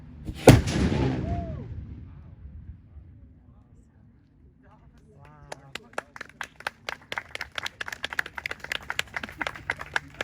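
A Spanish cannon fires a small black-powder charge with a single loud, close boom that rolls away into quiet. A few seconds later a crowd breaks into scattered applause.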